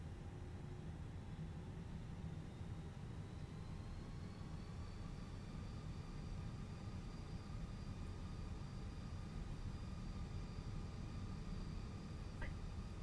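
Fenix A320 airliner jet engines spooling up for takeoff in Microsoft Flight Simulator 2020, a faint steady roar with a whine climbing in pitch.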